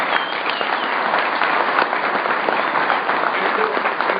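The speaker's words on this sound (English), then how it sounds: "let's give these guys a big round of applause" An audience at an evening meeting claps steadily for the night's hosts, a dense, sustained wash of applause that holds at an even level from start to finish, with a few scattered whoops rising from the crowd.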